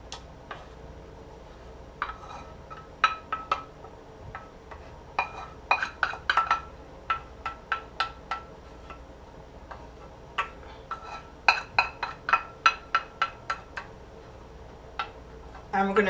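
Melted chocolate mixture being stirred into flour batter in a bowl, a string of sharp, quick clinks and taps of a utensil against the bowl in uneven bursts, close by, with faint low background hum.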